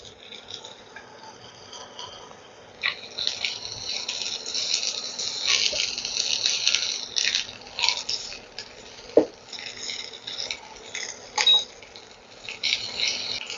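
Chopped onion drops into garlic already frying in a pan, setting off a loud, steady sizzle and hiss with occasional clinks and scrapes of a utensil, close by and without speech.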